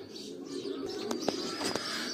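Young racing pigeons held in a cage give soft, quiet coos and a few short chirps over faint background hiss.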